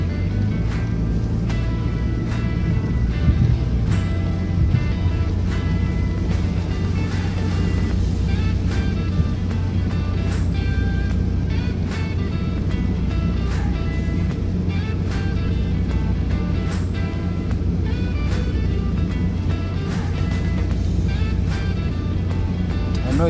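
A car engine hums steadily from inside the cabin during a rainy night drive toward a raceway, a continuous low rumble with road and rain noise underneath and no talk.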